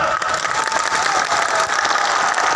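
Sustained, dense applause from a large festival crowd at the Teja Darshan Mahotsav in Barmer, honouring a martyr's father; steady loud clapping with a crowd roar throughout, no voices standing out.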